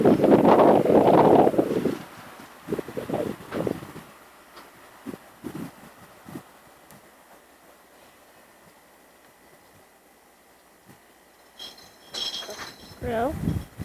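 Gusty wind roars across the microphone, loud at first then easing to a steady rush, with occasional creaks and bumps and brief voices near the end.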